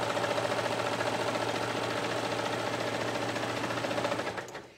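A sewing machine stitches seams on a flannel kids' bathrobe, a loud, close, steady mechanical whir with rapid even pulsing that runs continuously and winds down at the end.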